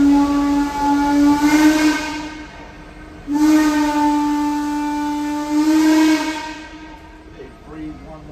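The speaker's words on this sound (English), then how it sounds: "After the 2 short blown whistles" A steam locomotive whistle on a sugar railroad excursion blows twice, two long loud hooting blasts rich in harmonics, each lasting about two to three seconds over a background hiss of steam.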